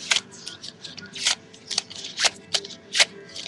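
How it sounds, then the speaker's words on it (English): Playing cards riffled in a double shuffle, close and crisp, with about eight quick papery bursts at an uneven rhythm over a quiet background. "I'm gonna show you how to do the ultimate shuffle. Or the double shuffle."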